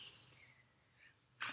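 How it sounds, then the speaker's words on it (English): A single short, sharp sneeze bursts out at the end after near silence, fairly faint and close. "I freaking coughed and I sneezed"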